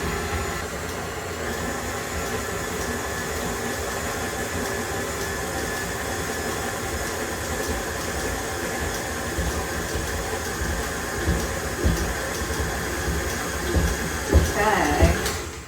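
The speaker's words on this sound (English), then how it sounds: "I've got all the ingredients already in my mixer. I'm going to mix it up" Stand mixer churning gluten-free tart crust dough, a steady droning motor hum that holds throughout, with a little extra knocking toward the end.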